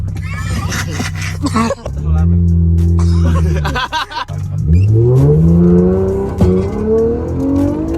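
A C5 Corvette is floored, its engine note holding steady and then climbing sharply as it accelerates. Loud and close, with laughter and voices mixed in around it.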